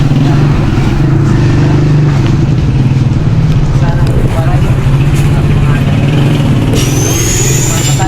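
A motorcycle engine idles with a steady low rumble amid street noise, with a brief higher whine near the end.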